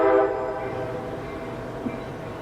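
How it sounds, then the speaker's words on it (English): A passing train with a blaring horn at the start that fades into a steady rumbling roll, moderately distant and unaccompanied by talk. "excuse me, train, how dare you?"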